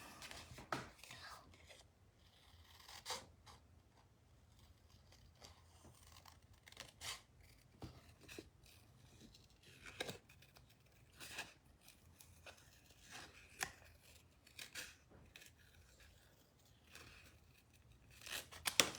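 Scissors snip paper die cuts at a craft table, a run of short, sharp, fairly quiet snips spaced irregularly with soft paper rustle and handling noise between them.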